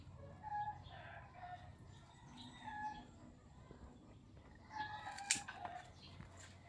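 Chickens and other birds in a backyard, with clucks and calls scattered throughout and a louder burst of sharp calls near the end, over steady low outdoor background noise.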